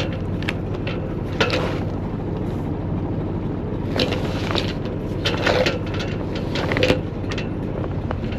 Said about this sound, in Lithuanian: Kol kas motoruojam link vartų.